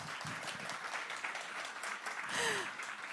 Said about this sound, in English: Thank you for the warm applause.